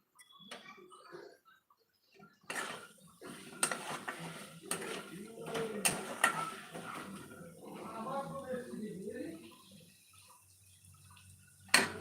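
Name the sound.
stir-frying egg dhoka gravy in a pan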